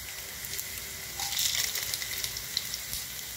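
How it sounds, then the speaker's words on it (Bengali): Dried red chillies sizzle in hot oil, producing a faint, soft crackling hiss that swells briefly midway and then settles. "একটু হালকা হতেই শুকনো লঙ্কা ছেড়ে দেবেন, শুকনো লঙ্কাটা ভাজা ভাজা হবে"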